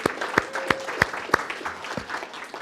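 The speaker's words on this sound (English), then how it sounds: "Mary Ward, let's give her a round of applause." During a Sunday church service a few people clap sparsely in a slow, regular rhythm. The claps are distinct and fairly close, with quiet room noise between them.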